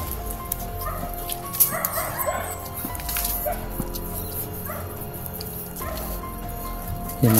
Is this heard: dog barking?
yes